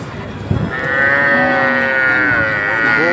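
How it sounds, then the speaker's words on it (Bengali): A calf moos loudly and close at a busy rural cattle market in Bangladesh, one long sustained drawn-out call after a brief thump, with crowd noise behind it. "গরু বাচ্চাটা দেখুন কত সুন্দর ডাক মারছে একটা।"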